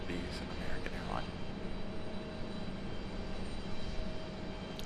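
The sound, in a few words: Southwest airliner arriving at Raleigh-Durham airport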